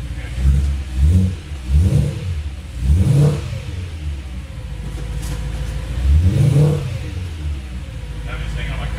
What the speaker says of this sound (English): pretty loud, cold start